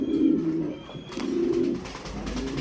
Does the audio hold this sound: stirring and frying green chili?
no